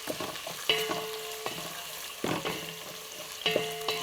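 Veldt grape (nalleru) stalks fry in a pan with a steady sizzle, broken by periodic stirring scrapes and metallic taps at regular intervals, close and moderately quiet, with no voices.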